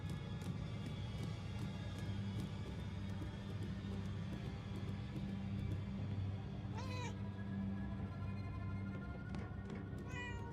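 A cat in Murdered: Soul Suspect lets out a couple of short, faint meows over a constant low droning background hum.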